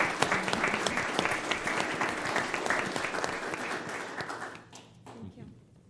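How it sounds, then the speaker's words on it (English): Applause from the audience at a school district governing board meeting, a dense wash of clapping that carries steadily for about four seconds and then fades out, with a few scattered claps at the end. "So I'd like to give them another round of applause for their work."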